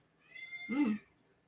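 A cat meows once, a single drawn-out, rising-then-falling call close to the microphone, with quiet background before and after.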